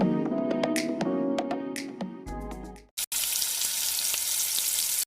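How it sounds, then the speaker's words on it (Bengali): Pieces of food being fried red in hot oil in a kadai, with crackling, music-like tonal sounds over it at first, then a steady loud hiss and sizzle filling the rest after a brief pause. "গরম তেলের মধ্যে ছুঁড়ে ফেলে লাল লাল করে ভেজে নেওয়া হলো"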